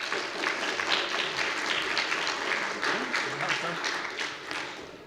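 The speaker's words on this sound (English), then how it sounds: "please give a warm, godless round of applause for Mr." An audience at the Reasonfest 2014 atheist conference applauds speaker Ed Brayton, dense sustained clapping from many hands filling the room, with a few voices mixed faintly underneath.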